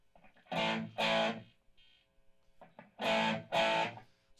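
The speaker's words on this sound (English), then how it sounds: "So you can control the amount of distortion." A Joemeek gbQ processor adds distortion to short bursts of sound, four loud clipped chunks in two pairs separated by a quiet gap, gritty and saturated.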